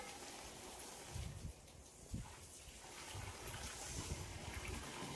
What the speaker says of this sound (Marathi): आता पावसाचं वातावरण झालं